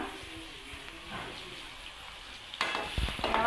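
Pork being fried and stirred in a pan for an Assamese-style pork gravy, a steady soft sizzle with scraping strokes that grow louder and busier near the end, with no talk.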